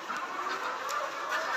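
Layer hens on a poultry farm holding about 14,000 birds, heard as a steady mass of soft clucking and chatter from many birds at once, close and continuous with no talking.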